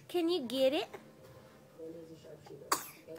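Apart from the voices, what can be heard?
sneeze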